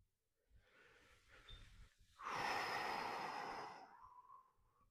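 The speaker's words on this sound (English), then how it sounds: "All the while breathing deeply, diaphragmatically." Slow, deep diaphragmatic breathing during a yoga session: a soft inhale, then a long, close, airy exhale lasting nearly two seconds, heard alone without talk.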